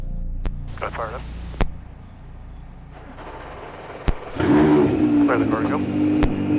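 An Acura race car engine, an ARX-05 prototype or NSX GT3 Evo, fires up with a sharp crack and settles into a loud, rough, nearby idle with throttle blips, after crackly radio clicks and hum.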